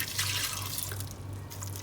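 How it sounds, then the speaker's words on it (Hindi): Water runs steadily into a cooking pot already holding tomato, garlic and ginger, a continuous splashing pour with a low hum underneath and no talking. "थोड़ा सा इसमें मैं पानी ऐड करूँगा।"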